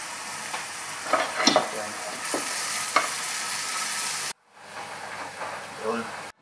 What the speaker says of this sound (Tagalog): naigisa ko yung sibuyas tsaka yung sili na may bawang